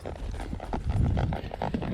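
A palomino mare in a spade bit walks along a trail, her hooves giving a steady, close clip-clop over about two seconds.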